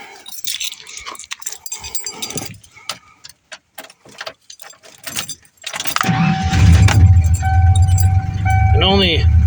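A Ford truck with a 5.8 litre 351 Windsor engine and 238,000 kilometres: keys jangle and rattle close by, then the engine cranks and catches into a loud, steady rumbling idle.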